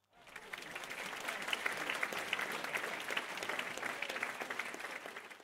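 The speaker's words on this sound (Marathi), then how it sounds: "याला म्हणतात टाळी" Audience clapping at a comedy kirtan, a dense, even burst of applause that rises quickly and holds steady for several seconds, fairly distant and without talk over it.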